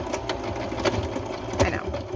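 A sewing machine runs steadily, stitching a fabric wrap-around journal cover for a floral altered book, with a continuous mechanical whir and faint periodic clicks throughout.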